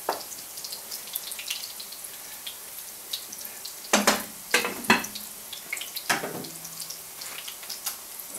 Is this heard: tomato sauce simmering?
yes